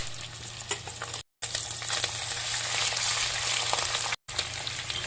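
Unmarinated mutton frying over high heat in a pan, a continuous, moderately loud crackling sizzle with stirring scrapes, broken by two short silent gaps, no voices.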